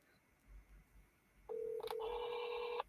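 Telephone keypad tones sound as a number of repeated eights is dialed, a quiet pause followed by a loud, sustained series of touch-tone beeps with brief breaks, close and alone.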